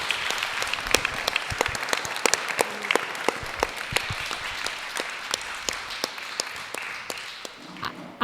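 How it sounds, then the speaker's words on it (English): A conference audience claps for the artists, with dense, steady applause of many hands that slowly thins and fades toward the end. "Round of applause for all our artists and everyone."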